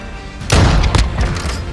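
Gunfire in the Warzone 2 video game bursts out loud and close after a quiet moment, a heavy boom followed by a second sharp shot and rumbling tail.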